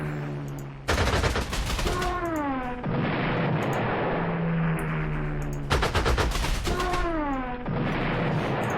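Heavy bursts of gunfire fire at aircraft in the Panzer Corps 2 strategy game, set near Moscow: two loud rapid volleys of rattling shots, each followed by a rising mechanical whine, over a steady low rumble.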